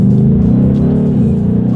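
A 2023 Ford Mustang GT in sport plus mode pulling hard in first gear, a loud, close, steady engine roar with a deep throaty rumble throughout.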